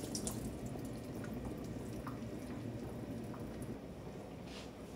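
Water drains steadily from a pot of cooked rice, producing a continuous wet splashing and trickling with scattered drips, close and fairly loud throughout.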